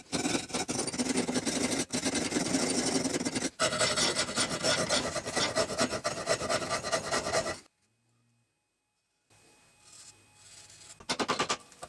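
A rasp files the back of a homestead-style wooden kitchen tool, producing loud, steady, rhythmic rough strokes that stop briefly, fall quiet for a couple of seconds and then resume near the end.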